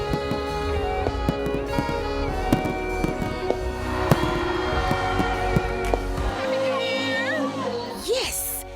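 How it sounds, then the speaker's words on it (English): Fireworks bursting over the waterfront at a New Year celebration, a dense run of sharp pops and crackles layered over crowd noise and music, with a rising whistle near the end. "Fireworks on the waterfront has become a staple event to ring in the new year"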